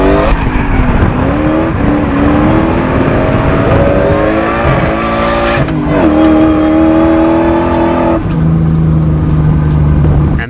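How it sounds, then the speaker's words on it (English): Supercharged V8 drift truck drifting in fourth gear on a large road course, engine screaming loud and close with rising and falling pitch through gear shifts, tires squealing throughout. "that right there was officially the first time I've ever drifted in fourth gear in this truck"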